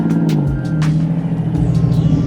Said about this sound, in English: It's a pretty crazy sounding Porsche.